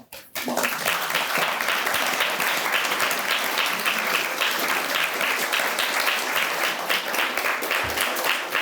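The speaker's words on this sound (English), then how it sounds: "I'd like us all to also thank her again with a wonderful round of applause." A large audience applauds steadily after a speech and Q&A with a House impeachment manager, dense sustained clapping that holds at full strength for about eight seconds with no talking over it.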